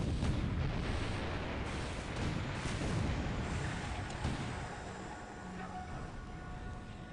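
Rumbling naval gunfire from tankers in a War in the Pacific game, a dense, continuous barrage of booming shots and explosions that slowly fades, with no talking over it.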